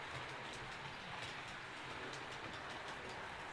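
An OO-gauge model railway B1 steam locomotive runs along the layout track, giving a steady, continuous low rumble with faint rhythmic rail clicks, quiet and unbroken throughout.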